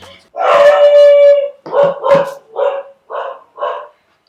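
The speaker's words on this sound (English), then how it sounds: "my dogs are barking" Several dog barks and a drawn-out howl-like yowl, loud and close, coming in a quick irregular burst and then a few shorter yaps.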